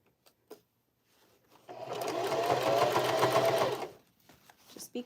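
A sewing machine stitches a bucket hat in one steady whirring run of about two seconds, close and fairly loud, with a few soft handling clicks before and after.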